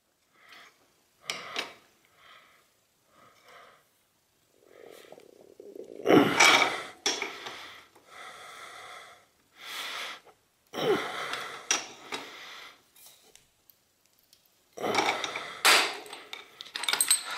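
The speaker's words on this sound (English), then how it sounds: "start tightening this puller and applying pressure" Crank arm puller being tightened on a stuck bicycle crank arm with damaged threads, giving a series of intermittent metallic creaks, clicks and ratchety scrapes separated by pauses, close and fairly loud, with no talking.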